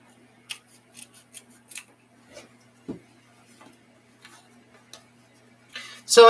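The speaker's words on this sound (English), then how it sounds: "Oh no, is this pair of scissors starting to go on me?" Quiet, sharp snips of dulling scissors cutting ribbon, a handful of short clicks spaced irregularly, ending with a louder rustle.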